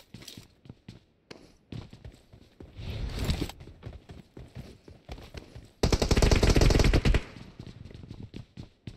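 Gunfire in PUBG Mobile comes as scattered single shots and short bursts, then one loud, sustained automatic burst lasting over a second, along with footstep-like clatter and handling noises.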